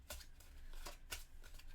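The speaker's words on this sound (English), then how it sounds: "So we're going to shuffle this up a little bit." Board game cards for Tiny Epic Zombies being shuffled by hand, a few soft riffling bursts close by in a quiet room.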